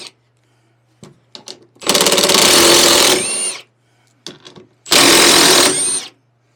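Power driver spinning out bolts on a TroyBilt 208EX snow blower, two long sustained whirring bursts, each preceded by short clicks and taps, loud and close with no talking.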